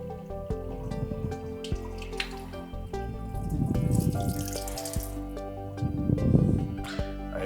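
Rinse water runs into a film developing tank in bursts of splashing flow and dripping, with quieter pauses and handling clunks between pours.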